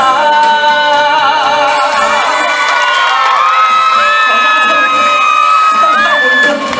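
A loud concert crowd at a nighttime Hakka folk-song celebration at a temple in Zhongli screams and cheers continuously, with shrill whoops rising over the roar and a voice calling out on stage.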